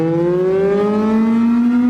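A loud, close warning siren with a steady rising wail, tied to a nuclear war scenario, sustained without a break and with no talking over it.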